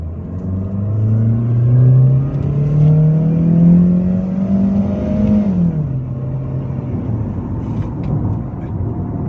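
A Chery Tiggo 2 engine revs up steadily as the car accelerates, rising in pitch for several seconds before easing off into a lower rumble.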